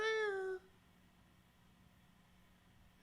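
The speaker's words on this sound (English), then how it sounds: "listen to the cat." A house cat gives one clear, drawn-out meow at the start, fairly close and loud, then it falls away to quiet room hum and faint noise.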